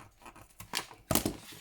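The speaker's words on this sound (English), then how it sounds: "I'm just going to poke my scissors in" Scissors are pushed into paper while a faux vintage journal cover is made, giving a few short, close crisp snips and crackles in two or three quick bursts.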